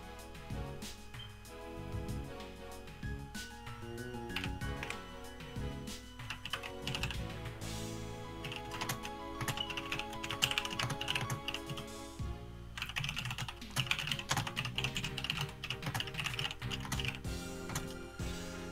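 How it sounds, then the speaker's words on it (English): Rapid typing sound effect from the Ace Attorney Investigations video game, a steady stream of keyboard clicks running under dense game music for the whole stretch. "stop typing up a storm!"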